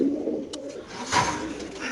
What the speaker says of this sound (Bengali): খুব সুন্দর একটা কবুতর আমরা দেখাচ্ছি আপনাদের